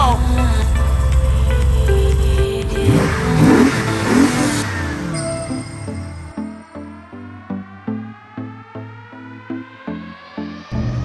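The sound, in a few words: 426 Hemi-swapped Jeep Gladiator Rubicon engine on first road test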